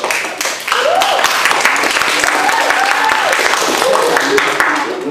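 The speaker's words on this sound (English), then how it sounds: "Give applause for the debaters." Loud applause from a university debate audience fills the hall, dense and sustained clapping with cheers, while an announcer's voice carries over the top.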